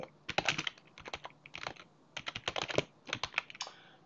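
Quick bursts of close-up typing on a computer keyboard, clusters of crisp key clicks with short pauses between them, as a password is entered in a quiet room.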